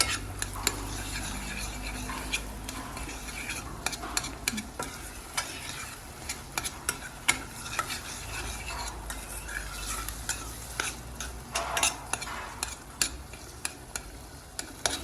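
Meat sautéed in a pan with tomato paste and a little pepper paste, stirred with frequent quick scraping clicks over a continuous low sizzle, close and fairly quiet, without talk.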